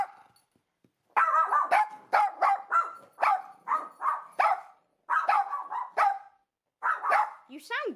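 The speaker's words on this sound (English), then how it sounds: "Nice strong bark" Repeated strong, close barks from a dog recovering from health problems at home, coming in quick bursts with short pauses; someone speaks between them.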